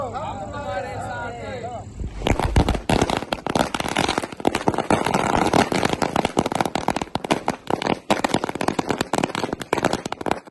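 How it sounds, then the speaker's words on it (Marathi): After a few seconds of talk, a dense barrage of celebratory firecrackers erupts outdoors, loud rapid bangs and crackles bursting continuously without a break. "फटाक्यांची आतिषबाजी करीत जल्लोष साजरा"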